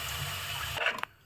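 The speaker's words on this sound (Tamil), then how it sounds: "கொஞ்சம் தண்ணியை விட்டுருக்கேன்" Water pours steadily into a cooking pot for most of the moment, then cuts off, followed by a couple of brief clinks and splashes.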